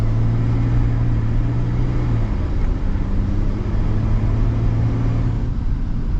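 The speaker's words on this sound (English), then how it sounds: "The engine kind of sounds different." A 2026 Chevy Silverado 1500 LTZ pickup truck driving, its engine giving a steady low hum and drone with a faint pitch shift partway through, heard from inside the cab with no talk.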